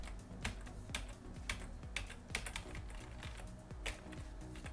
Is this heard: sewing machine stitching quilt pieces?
no